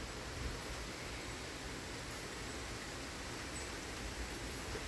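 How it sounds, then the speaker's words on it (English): Steady rain falling outside during a thunderstorm in southeastern Pennsylvania, a constant, even hiss with no breaks or voices. "it's raining."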